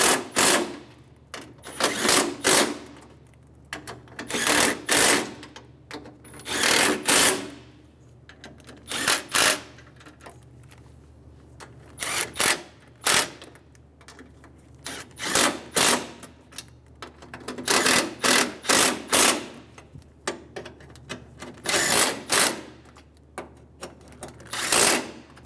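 Bolts are run down on the radiator cooling fan assembly of a 2003–2008 Honda Pilot, with repeated short bursts of a power ratchet or driver buzzing in an uneven rhythm, close and loud.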